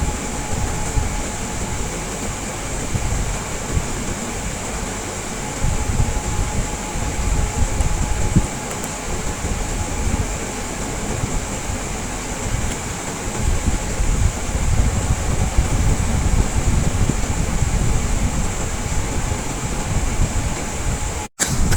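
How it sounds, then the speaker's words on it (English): A hot air blower heats solder paste on a TV circuit board to lift a flash IC, producing a steady, close whooshing hiss of airflow with a faint high whine that holds evenly throughout. "After that, using the blower, you have to heat it up."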